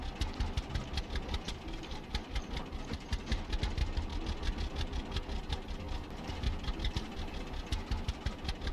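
A farm vehicle in the Farmers Dynasty game drives across a field with a steady, chugging engine rumble and rapid regular pulses, moderately loud and even, with no talking.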